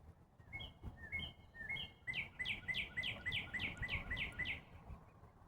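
A cardinal sings close by in an evening neighborhood, repeating clear whistled notes, first a few slower phrases and then a rapid series of downward-sweeping chips.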